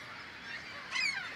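Coastal seabirds call on the isolated Dry Tortugas islands: a soft, steady wash of distant bird chatter, then a brief, louder honking, goose-like cry rising near the end.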